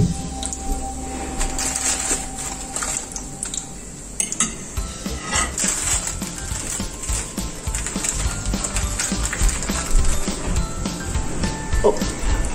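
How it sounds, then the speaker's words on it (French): Homemade donuts fry in very hot oil with a steady close sizzle and crackle, while utensils clink and scrape against the pan now and then. "Mais là, l'huile est bien chaude et ça cuit vite."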